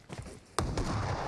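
A single sharp gunshot in PUBG Mobile cracks partway through, followed by a burst of muffled rumbling and noise.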